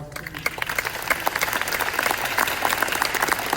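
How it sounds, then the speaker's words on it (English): A community audience at a precinct police meeting claps in a sustained, steady round of applause that builds slightly and continues throughout. "so could we give them a round of applause"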